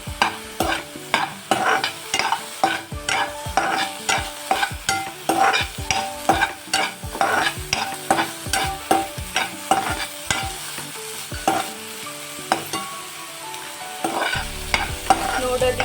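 A spoon scrapes and stirs fried paneer cubes in a hot pan, rhythmic clanking strokes over a soft sizzle, close and clear with no talking.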